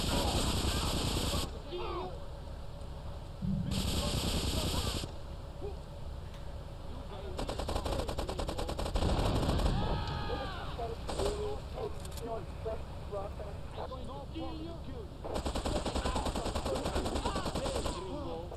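Shotgun fire in GTA 3 Definitive Edition, loud bursts of gunfire in several clusters with game effects between them and a voice talking over parts of it.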